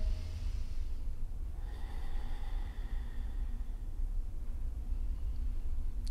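Slow breathing during a yoga session: a soft, airy inhale and exhale close to the microphone, faint and unhurried over a quiet background hiss.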